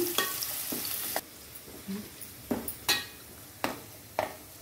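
Onions hissing and sizzling in a hot pan with whole spices for a Guntur-style prawn curry, with intermittent stirring scrapes and clinks of a utensil against the pan, close and moderately loud.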